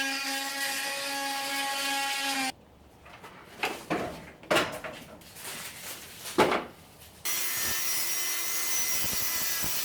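Cutting out a damaged, rain-wet wooden piece inside a converted bus: a power saw's whine runs at the start and again at the end, with irregular knocks and scraping of wood in between.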